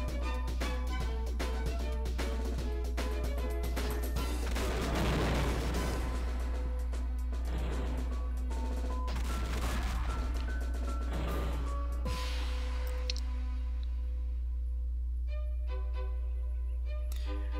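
Special-attack bombs dropping in the Age of War flash game, a dense cluster of booming blasts and pops over a game music bed that thins out toward the end.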